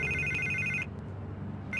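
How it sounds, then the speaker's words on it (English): A telephone rings in the Batman Telltale Series game, an electronic trilling tone heard close and loud, cutting off briefly before starting again, with no talk over it. "I can't get the phone to stop ringing."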